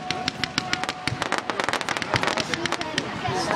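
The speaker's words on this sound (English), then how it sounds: "Pink fireworks and you get like this" Pink fireworks burst in a rapid crackling barrage, with dense sharp pops coming faster and louder toward the end while people talk in the background.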